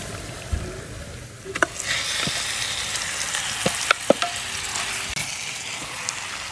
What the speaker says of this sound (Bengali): এখন আমি দিয়ে দেবো মাখানো মাংসটা